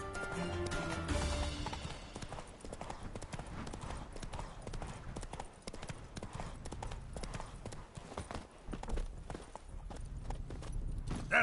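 Roach, a horse in The Witcher 3: Wild Hunt, gallops with rapid rhythmic hoofbeats throughout, near and clear, over game sounds, with a voice briefly heard.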